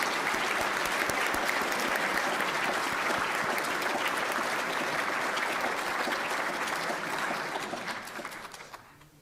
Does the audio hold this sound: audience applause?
yes